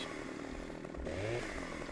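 Chainsaw cutting down a tree in Farming Simulator 15, a steady buzzing engine drone that runs continuously through the clip with a slight rise in pitch partway, loud and close, no talk.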